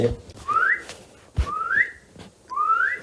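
A person whistles three rising, breathy notes in a steady rhythm, imitating a wheezing breath.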